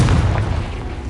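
A single loud, deep boom bursts close by as a Confringo spell explodes in a Hogwarts video game, then decays over about a second.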